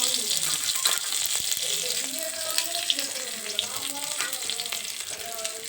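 Panch phoron spices sizzle in hot mustard oil after chillies are lightly fried, a continuous close hiss with scattered pops and faint clinks, running steadily without talk.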